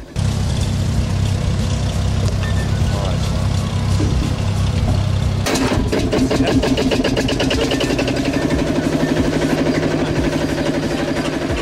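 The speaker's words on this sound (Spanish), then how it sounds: "se utilizó un cartucho de escopeta para que los motores arrancaran" A large vintage engine fired by a cordite shotgun cartridge catches with a sudden sharp start midway, following a steady low drone, then settles into a loud, rhythmic running idle that continues to the end.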